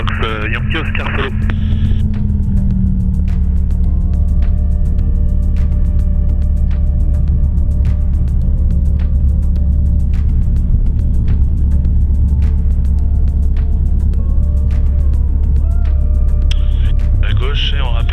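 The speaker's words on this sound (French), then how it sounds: "Je décolle piste 16, premier virage à gauche" Steady, loud engine drone and propeller rumble from a DR400 light aircraft during its takeoff roll and climb from runway 16 at Lyon Bron, continuous throughout with cockpit radio voices heard over it.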